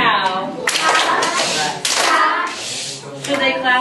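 First graders at a school concert clap a rhythm together. Loud group claps come in uneven bursts with short gaps between them, mixed with children's voices.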